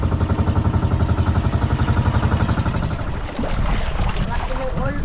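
Sea waves slap and wash against a small fishing boat in rough water, a loud close churning mixed with a running motor hum and gusts, with someone talking over it.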